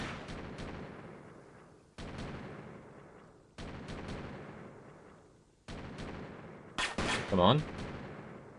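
Four heavy artillery blasts from a fire mission in Delta Force 2 land at roughly two-second intervals, each a booming crack that rumbles and fades, followed by a short spoken line.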